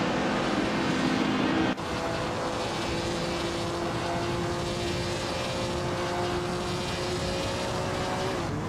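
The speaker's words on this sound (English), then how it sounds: "Bot Darigos is cruising in a 1977 Lancia Stratos HF." A 1977 Lancia Stratos HF race car in a racing game holds a steady, buzzing engine note at speed. The sound stays constant and fairly loud, with a brief shift in tone near the start.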